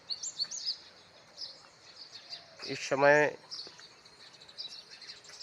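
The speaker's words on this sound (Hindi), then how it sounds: "बहुत ही अच्छा लगता है जब सुबह में पक्षियों की चहचहाट होती है" Birds chirp and tweet in the morning, with sporadic thin calls and one louder burst near the middle, while a person speaks briefly.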